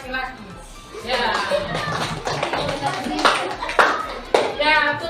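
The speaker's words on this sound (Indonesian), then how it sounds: "Kita berikan tepuk tangan untuk kelompok KPD" A small group in a teachers' training session claps for a discussion group's presentation, scattered, uneven handclaps with a few sharp bursts, mixed in with people talking the whole time.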